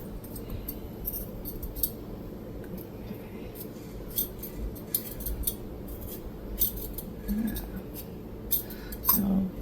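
Potatoes being peeled by hand with a peeler: quiet, close scraping strokes and small clicks repeating in an uneven rhythm, with faint background murmur.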